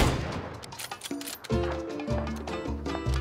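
Rapid gunfire from a video game crackles in quick bursts, loud and close, with music-like tonal sounds layered underneath.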